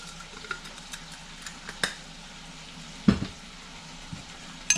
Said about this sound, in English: We'll stir it up.